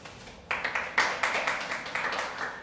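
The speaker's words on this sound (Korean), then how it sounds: "하나님께 영광의 박수를." A congregation claps together at a Sunday church service: a dense run of applause starts abruptly, swells with a few sharper peaks, and keeps going steadily to the end.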